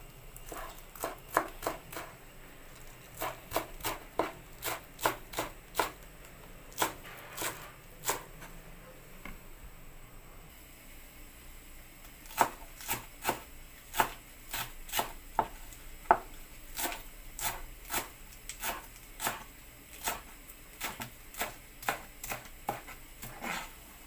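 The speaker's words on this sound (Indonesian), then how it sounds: "iris seladahnya biar nggak terlalu panjang ini aku iris" Knife slicing lettuce on a cutting board, crisp sharp cuts in quick bursts with a short pause midway, close and fairly quiet, no voices.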